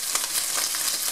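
Ground meat sizzles in a hot pan with mushrooms, a continuous even crackling hiss close by, dotted with brief sharper spits, and no one speaking.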